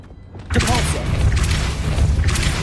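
Depulso force spell cast in Hogwarts Legacy, a sudden whooshing burst with a low thump that swells and lingers as a rumbling wash of magic.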